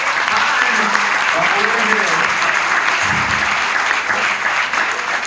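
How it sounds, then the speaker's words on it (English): Steady, sustained applause from a seated audience at a community gathering, dense and continuous for several seconds with a faint voice briefly heard underneath. "Please, a round of applause."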